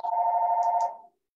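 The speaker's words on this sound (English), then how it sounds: "somebody's ringing." A telephone rings once with a steady electronic tone lasting about a second, clear and close, then stops, with no talk over it.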